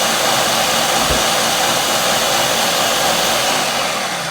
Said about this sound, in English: I'm also gonna blend it just a little bit.